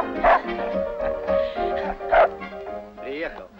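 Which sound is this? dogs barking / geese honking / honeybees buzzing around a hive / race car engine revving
dogs barking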